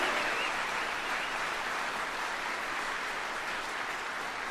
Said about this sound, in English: So let's give them a round of applause also for the work that they've done.